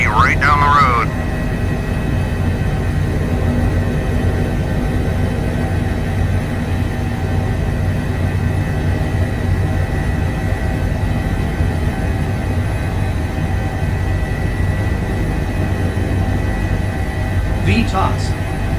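An EMS helicopter flying in a video game, a loud, constant droning rotor and engine hum that runs throughout, with brief chirping radio or voice sounds at the start and end.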